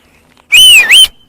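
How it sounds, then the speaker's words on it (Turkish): A person whistles one loud, close two-part note that dips and rises again, with quiet before and after. "Valla çalıyorum ıslığı bak"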